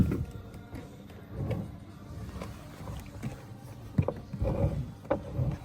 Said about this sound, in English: That sounds like some metal is scratching against metal